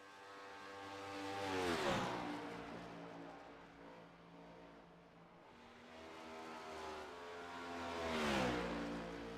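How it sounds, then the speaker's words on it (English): Race cars at an Area 51 Racing track roar past one at a time, each engine swelling as it nears and dropping in pitch as it passes, with two clear pass-bys separated by a quieter lull. "Hopefully we can get the sound of the cars here, folks."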